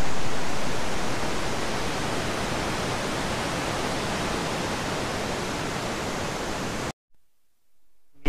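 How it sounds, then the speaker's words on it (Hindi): A river rushes steadily below a mountain trail on the Annapurna Base Camp trek in Nepal, a loud, even broadband roar that runs unbroken for about seven seconds before cutting off abruptly to near silence. "नीचे इस नदी की आवाज"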